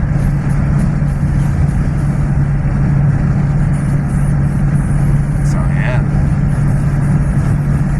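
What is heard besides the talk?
392 car engine running with windows up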